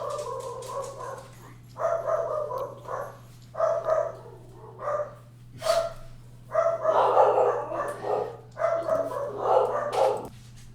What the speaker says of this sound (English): A little bit of dog activity.